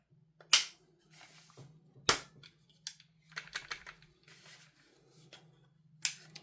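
Plastic clicks and rattles as someone works a stuck front magazine on a B&T SPR 300 air rifle: several sharp, close snaps spaced irregularly, with small fumbling clatters between them and a steady low hum underneath.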